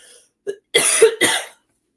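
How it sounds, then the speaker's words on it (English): A single short cough followed by two harsh, throaty coughs close by, with brief silence between them. "I don't know what you say when someone coughs"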